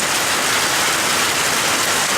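Steady, dense rain hiss with no pauses, close and fairly loud, continuous throughout with no voices.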